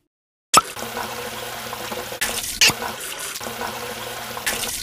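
A tap runs in the video game Ghorfa w Nos 2 after a moment of silence, giving a loud rushing flow of water with a few abrupt clicks and surges along the way, no voices.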